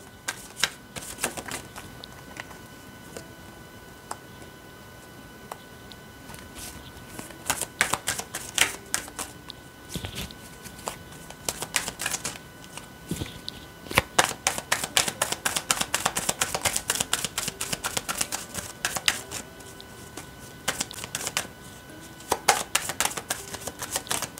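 Tarot and oracle cards are shuffled by hand in irregular bursts of quick, crisp riffling and snapping, close and fairly quiet, with pauses between flurries and no voices.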